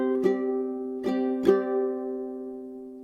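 Three ukulele strums of chords from a One Piece song ring out close and clear, the last chord left to sustain and fade.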